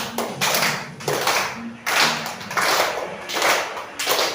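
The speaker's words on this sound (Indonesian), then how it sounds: "Tepuk tangan." A group claps hands together in an ice-breaking classroom game, several bursts of brisk, close clapping in an uneven rhythm with short pauses between.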